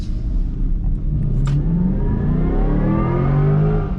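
A 2024 Chevrolet Corvette E-Ray engine roars steadily at full power, a sustained loud rumble with rising revs and a brief whoosh partway through.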